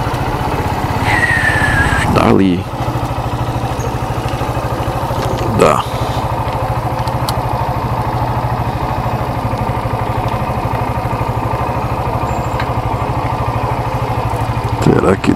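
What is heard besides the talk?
motorcycle engine idling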